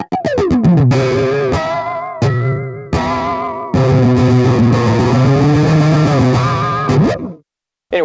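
A loud distorted electric guitar run through a Whammy pitch-shifting effect on an N-100 PRO, notes bending and sliding up and down in swooping glides, alone without voices.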